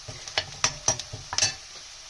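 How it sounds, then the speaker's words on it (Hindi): Chopped onions fry in a pan while a spoon stirs them, giving a run of sharp scraping strokes over a low sizzle, close and fairly loud. "चॉप किया हुआ प्याज डालेंगे पहले। प्याज ये देखें स्लो स्लो लाइट ब्राउन हो रहा है।"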